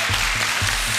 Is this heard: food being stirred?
no